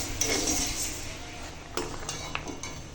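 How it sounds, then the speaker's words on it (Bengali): Moong dal being stirred in a dry pan, with scattered metallic scrapes and clinks of a utensil against the pan over a faint sizzling rustle, close and fairly quiet. "এখন মুগ ডালটা শুকনো খোলায় নেড়ে নিচ্ছি"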